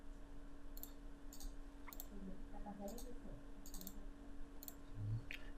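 A computer mouse clicks at a desk, about seven crisp, separate clicks spaced roughly a second apart over a low, steady electrical hum.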